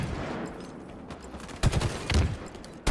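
Gunfire in a video game, a capture-the-flag match on the Starboard map: a few sharp bursts of shots over steady background game noise, with a louder cluster near the end.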